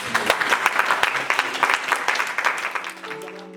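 A church congregation bursts into sustained applause for the Lord, dense hand-clapping filling the room before it tapers off as a sustained note rises underneath.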